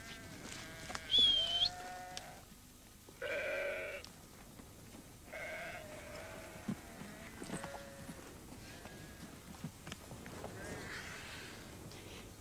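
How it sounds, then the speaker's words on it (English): A flock of sheep in open countryside bleats in a scattered series of short, wavering calls, some near and some farther off. Faint hoof clops and rustling sit under the quiet background. "Well, there's all your sheep."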